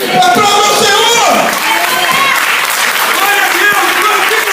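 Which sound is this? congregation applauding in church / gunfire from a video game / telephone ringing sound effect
congregation applauding in church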